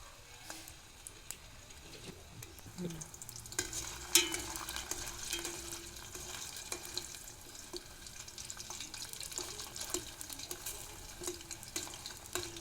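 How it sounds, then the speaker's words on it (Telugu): Aloe vera pieces frying in coconut oil, a faint continuous sizzle with occasional stirring scrapes and clinks, quiet and steady throughout with no talk. "చూడండి ఇవి ఎలా వేగుతున్నాయో"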